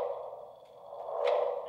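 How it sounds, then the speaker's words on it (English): Gravitational wave signal recorded by LIGO, converted into audible sound: a steady low droning hum that swells near the end with a brief upward chirp, heard alone. "if they took the frequency of the gravitational wave, they converted it to sound and they played it"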